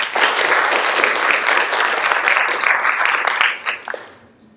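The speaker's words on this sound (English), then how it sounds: "If we could take a moment for a round of applause to Maylin Chen" Audience at a school board of education meeting gives a round of applause, a few seconds of close, fairly loud clapping that thins out and stops.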